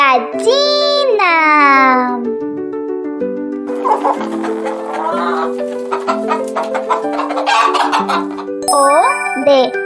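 A chicken clucks and calls within a children's Spanish-language farm-animal sounds lesson, with a bright warbling cry at the start and busy chatter of clucks through the middle, mixed with other tonal sounds.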